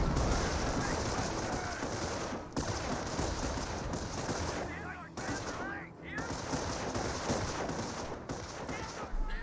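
Sustained gunfire and machine-gun bursts from a Company of Heroes 1 WWII strategy match, with an HQ squad falling back under suppressive fire and a thrown incendiary grenade; dense, continuous battle noise with a commentator talking over it.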